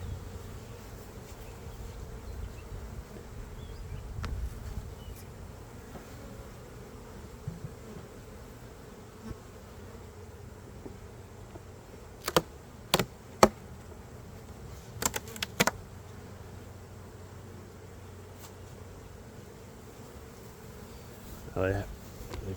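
Honey bees hum steadily at an opened hive during a swarm check, a low continuous drone from near and far insects, with a few sharp clicks and knocks and faint speech in the background.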